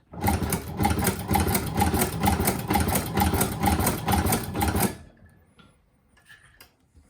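Chinese leather shoe patcher sewing machine stitching in a fast, steady mechanical rattle for about five seconds, loud and close, then stopping to leave faint small clicks.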